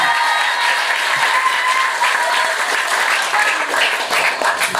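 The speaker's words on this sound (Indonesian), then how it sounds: "Tepuk tangan untuk Abah." Loud, sustained audience applause fills a religious study gathering at an Islamic boarding school event honoring Abah Gus Mujib, with dense continuous clapping and some crowd murmur throughout.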